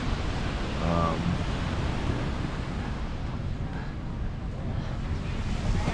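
Surf at a swimmable beach in Cabo rolls as a steady broadband wash with wind noise against the microphone, continuous and fairly loud throughout, with a brief faint tonal sound near the start.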